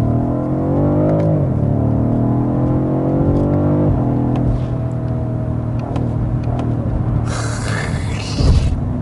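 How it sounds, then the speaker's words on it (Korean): A BMW M550i engine revving up and down as the throttle is blipped around 3000 rpm, loud rising and falling engine tones heard close. "3000rpm에다 딱 걸고 악셀 탕탕 쳤을 때"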